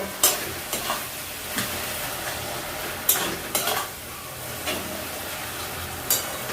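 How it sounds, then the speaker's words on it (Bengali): Masala for chicken biryani fries in a pan over a raised gas flame, a steady sizzle punctuated by regular scraping stirs and occasional utensil knocks, close and alone. "এরপর গ্যাসের ফ্লেমটা বাড়িয়ে দিলাম, ভালো করে মশলা কষিয়ে নেব"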